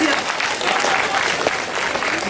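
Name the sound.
audience applauding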